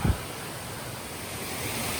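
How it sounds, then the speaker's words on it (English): Small trailside waterfall on the Appalachian Trail after a week of rain, a steady broadband rush of flowing water heard close and continuous, alone without any talk. "this is a little waterfall I just showed"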